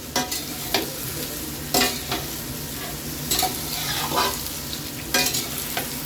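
Potatoes fry in hot oil seasoned with dried chili and bay leaf, giving a steady close sizzle broken by repeated scraping stirs and clinks from a utensil in the pan.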